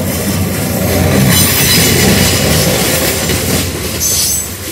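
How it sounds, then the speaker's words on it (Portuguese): A loaded freight train brakes on its descent of the Serra do Mar, with loud, continuous wheel squeal over a heavy rolling rumble and faint rhythmic clacking of wagons passing close by. "aqui o trem ele segue o procedimento de freio de serra"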